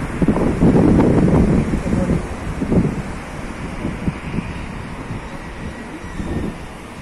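Outdoor wind rumbles and buffets loudly against the microphone on a sunny day, strongest early on and then easing into a steadier gusty roar with occasional surges.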